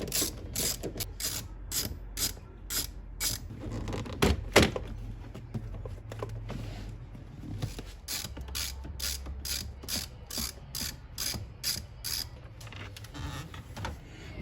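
A ratchet backing out 10 mm screws in the dash of a Toyota 4Runner, sounding as repeated close bursts of fast clicking with a brief knock in the middle and faint rustling underneath.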